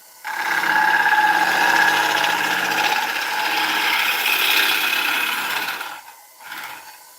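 Wood lathe turning a brittle kiln-dried wooden bowl, giving a steady loud whirring, scraping cut that runs for about six seconds, then drops away into a short quieter pass near the end.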